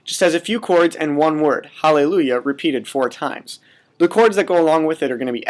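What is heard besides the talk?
No distinct noise like a dog, phone or traffic.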